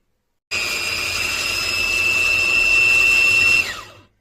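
A new kitchen blender mixing dough with baking powder and vanilla sugar whirs steadily at high speed for a few seconds, rising slightly in pitch before cutting off and winding down.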